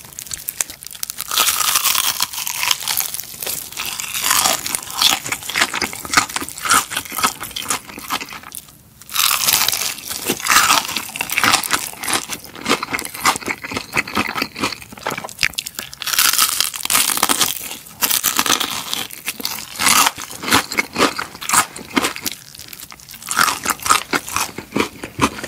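Crunchy fried chicken from 60 Gye Chicken's new KKK menu being bitten and chewed up close, dense crackling crunches and crinkly tearing repeating steadily throughout with only brief pauses, no talking.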